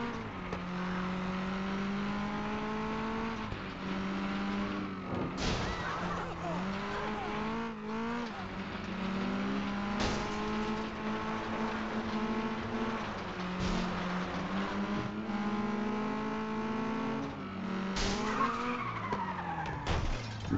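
Race cars squeal and skid through a race in FlatOut 2, rear-wheel drive machines sliding under a steady engine drone, with tire screeches and occasional crunching impacts breaking through.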